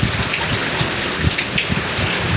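Heavy rain pours steadily on surfaces around a flooding house, with gusty wind adding a broad roar and low rumbles that swell at moments throughout; no voices.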